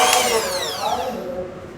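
Close, continuous whirring of an electric hand mixer on speed 1 as it beats vanilla sponge cake batter, a short steady burst with a faint sweeping whine.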